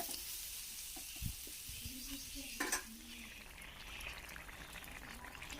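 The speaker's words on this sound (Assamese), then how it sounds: "মছলাখিনি তাত দি আকৌ মই ভালদৰে অলপ টাইম ভাজি থাকিম" Spices and vegetables frying in a pan while being stirred, giving a soft, steady sizzle with a few clinks and scrapes of a utensil against the pan.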